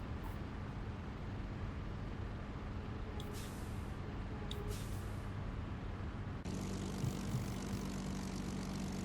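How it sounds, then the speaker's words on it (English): Low-spooled Rolls-Royce Merlin aircraft engine in the IL-2 Great Battles flight game, a steady crackling drone that holds throughout and swells slightly near the end, with no talk over it. "I do love the sound of a low-spooled Merlin engine. That sort of crackle it has."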